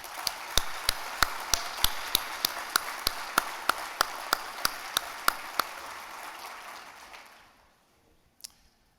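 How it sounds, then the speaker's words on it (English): Staff at an annual association meeting receive a round of applause, with one near clapper beating a steady, evenly spaced rhythm over the softer crowd. The clapping fades out after about seven seconds, followed by a faint click. "let's give our staff a big round of applause"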